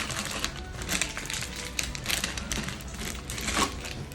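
Plastic packaging of funnel cake mix being pulled open, producing close, continuous crinkling and crackling with small sharp snaps, steady throughout.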